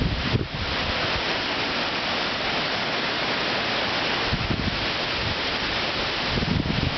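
Strong Hurricane Isaac winds blow hard outdoors on a street, a constant loud roar buffeting the microphone with gusty thumps throughout.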